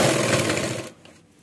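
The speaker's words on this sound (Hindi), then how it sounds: "हमारी ये मशीन की सिलाई इस पर इजी चलेंगी" An electric sewing machine stitches a thick bridal sharara, its motor whirring loudly for under a second before stopping abruptly into near silence.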